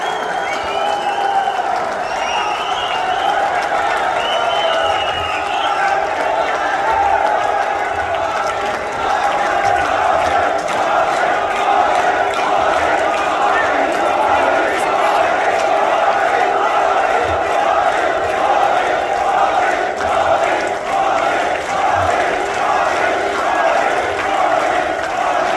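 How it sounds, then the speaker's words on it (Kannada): A large crowd at the Bengaluru Yellow Line metro inauguration chants "Modi" and cheers in a continuous loud roar, with rhythmic shouting swelling steadily for about twenty-five seconds. "ಪ್ರೇಕ್ಷಕರು ಹಾಗೂ ಆಹ್ವಾನಿತರು ಸಿಎಂ ಎದುರಲ್ಲೇ ಮೋದಿ ಮೋದಿ ಮೋದಿ ಎಂದು ಜೈಕಾರ ಕೂಗಿ"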